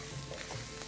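Spices with chili powder and salt fry in a pan, a brief, soft, continuous sizzle with no voices.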